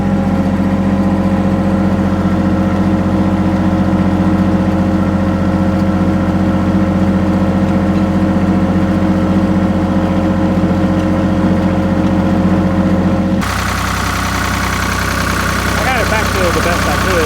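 Engine of a 4000 tractor on a farm, a loud steady close idle drone with a strong low hum, changing tone near the end, with talk over it.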